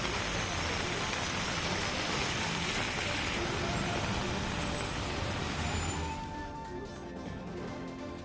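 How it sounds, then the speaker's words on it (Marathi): Heavy rain in Navi Mumbai pours down as a dense, loud, steady hiss of drops on surfaces, with traffic faintly underneath, easing slightly near the end. "नवी मुंबईत विजांच्या गडगडाटासह जोरदार पावसाने हजेरी लावली।"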